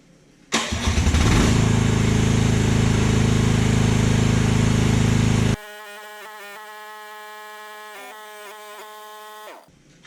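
A Chinese mini excavator starts and runs loud and steady with its engine straining as the hydraulic rams retract. The engine then drops to a quieter, even idle before cutting off.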